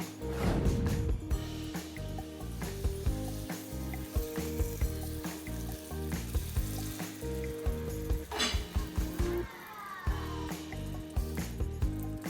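Batter sprinkled gradually into a pan with very little hot oil, loud crackling and sizzling frying close up, with intermittent scraping and clinking of a utensil against the pan.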